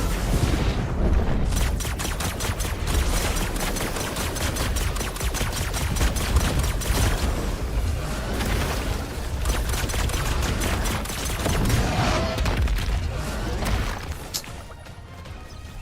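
Rapid gunfire from guns in LEGO Fortnite, dense bursts of shots and crashing impacts filling the whole stretch, loud and continuous with brief dips before fading near the end.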